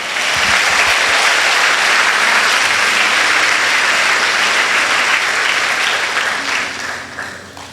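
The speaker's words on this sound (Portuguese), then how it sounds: "Pode dar um salve de palmas para Jesus" Church congregation applauding during a service, loud continuous clapping from a large crowd that fills the room, sustained for several seconds before tapering off near the end.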